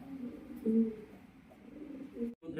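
Soft, low coos of young fancy pigeons repeat a few times, fairly faint against a quiet background, with a short noise burst near the end.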